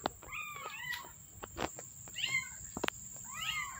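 A young kitten, about a month old, gives several short, high meows in quick bursts, fairly close, with faint clicks and low room noise between calls.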